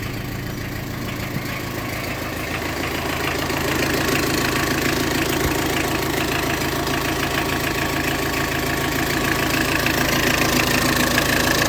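A Tata Indica V2 car engine runs steadily after starting, a loud continuous idle with a rough knocking chug and slowly rising revs, close by with no talk; the car has a heater plug fault affecting starting.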